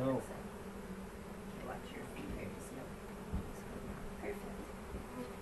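Honey bees buzzing around an open hive at an apiary, a steady swarming drone heard close by, with people talking quietly underneath.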